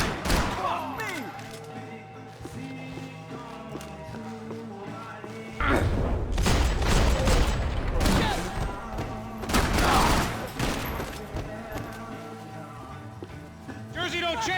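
Gunfire in the Max Payne video game, bursts of loud shots and heavy thuds in the middle of a chaotic fight, mixed with shouting voices and a busy game soundtrack.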